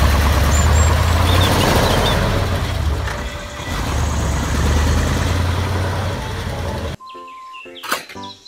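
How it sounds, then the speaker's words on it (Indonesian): A toy cement mixer truck gives off a steady rumbling engine drone for several seconds, then cuts off abruptly and is followed by a few brief clicks and rattles. "Mobil truk molen."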